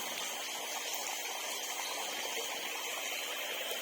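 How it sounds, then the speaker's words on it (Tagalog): Water drains from a catfish fry tank in a steady, full rush that pours evenly throughout without pause, and no one speaks over it. "ipapakita ko po sa inyo kung paano ko po ginagawa ang pag-drain sa ating tank"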